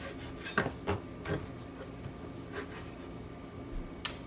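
A knife saws through a frozen pot roast, giving a few close scraping, rasping strokes early on, then softer intermittent rubbing with a faint steady background hum.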